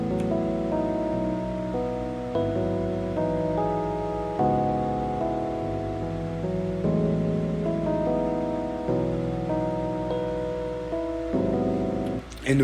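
A mellow beat track soaked in heavy reverb with a phaser sweep, sustained keys shifting through chord changes every second or so, smooth and washed-out, with no voices.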